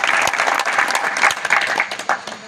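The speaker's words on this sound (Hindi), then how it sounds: "एक बार जोर से तालियां होनी चाहिए" Applause at a National Safety Week prize ceremony, a brief burst of many people clapping together, loud and dense throughout, with no talk over it.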